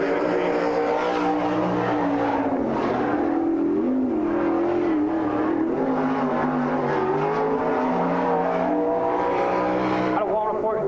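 A race car laps a short track at a race night, its engine droning steadily with shifting pitch throughout, loud and continuous beneath an announcer's voice.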